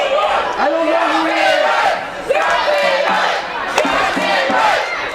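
Wrestling crowd at a Halloween-themed indie show chanting loudly at a wrestler, rhythmic rising-and-falling shouts repeating in waves across the arena, dense and close, with a commentator's voice under the noise.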